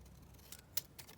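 Scissors make a few quick, faint snips and crisp clicks while cutting paper for a junk journal, heard close and alone in a quiet room.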